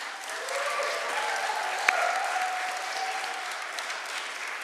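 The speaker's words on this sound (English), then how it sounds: "let's have another round of applause for John for his wonderful work" Audience applause follows a choir performance, a steady wash of clapping from a hall crowd at moderate distance, sustained throughout with a single sharper clap standing out.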